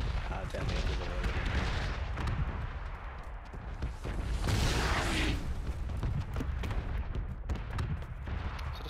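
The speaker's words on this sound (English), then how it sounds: "Is that a sniper shot?" Gunfire in PUBG, with heavy shots and booming reports in a busy battle mix, several distinct cracks standing out over a rumbling background, fairly loud throughout.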